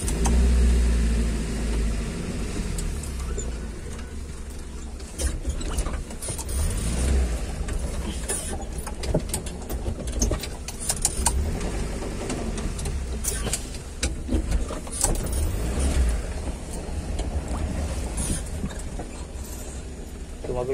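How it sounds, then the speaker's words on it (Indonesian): A car rolls past on a narrow residential street, its engine a low steady rumble that rises and falls nearby, with scattered clatter and background noise throughout. "Mobil kasih lewat dulu tuh."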